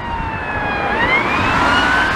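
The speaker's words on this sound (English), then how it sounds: "an ambulance with a police car going past. I'll just wait till that, it's a paramedic van" An ambulance, a paramedic van, goes past with a police car, their sirens wailing loud and close against street traffic noise, and the pitch slides as they pass.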